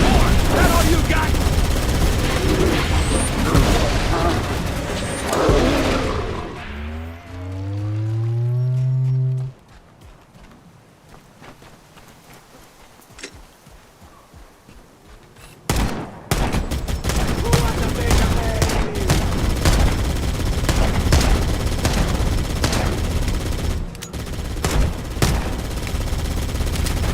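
Gunfire in the Halo Campaign Evolved video game, dense bursts of rapid shots under loud battle noise, a tonal swell and a quieter gap midway, then heavy firing returning; voices shout over it.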